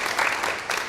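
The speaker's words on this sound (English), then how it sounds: "We should applaud for that." A live show audience bursts into short, dense applause that swells and fades within a second.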